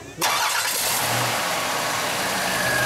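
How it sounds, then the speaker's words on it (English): A 1990 Buick Reatta Select 60 convertible with fuel injection fires up abruptly and settles straight into a loud, steady idle that carries on close by with a low exhaust note. "Sideways engine start, the fuel injection."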